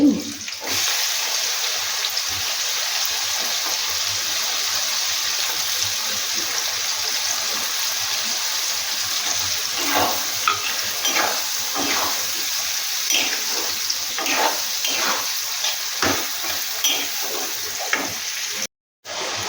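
Onion frying in hot oil in a pan used for chicken curry, a continuous close sizzle with occasional clinks and stirring scrapes that pick up in the second half, no talk.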